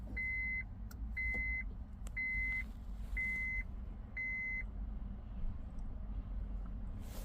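A 2006 Honda Civic beeping with the ignition switched on during key programming: five evenly spaced electronic beeps over a low, steady background hum, with no talk.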